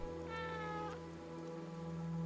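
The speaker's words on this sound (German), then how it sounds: "Miau ich mit dem?" One short, bright meow from the cat in the video game Stray sounds early and fades quickly, leaving a steady drone of rain and low ambient tones with no voices.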